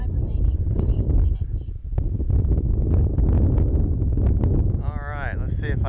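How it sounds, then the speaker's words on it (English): Outdoor wind buffets the microphone in a constant low rumble while an RC F-86 Sabre jet model flies, with a person talking over it and a thin rising whine near the end. "that wind is really messing with her"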